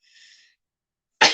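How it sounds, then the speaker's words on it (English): A faint breathy intake is followed after a pause by a single sudden, loud, close sneeze from someone with allergies. "I've been sneezing for 2 days."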